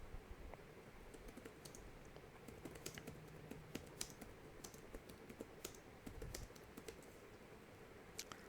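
Code is typed steadily on a computer keyboard, with fairly faint, close, irregular keystroke clicks that continue throughout with no talk.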